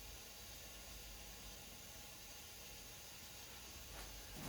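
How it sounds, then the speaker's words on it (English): An air compressor runs in a workshop during a DIY side table build, giving off a steady broadband hiss that holds level throughout, with a faint knock near the end. "I got the compressor running"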